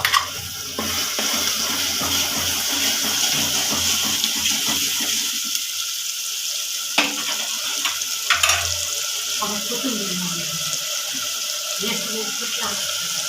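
Coriander and garlic masala sizzles and crackles steadily in a pan, a continuous close hiss with occasional sharper pops and stirring clinks.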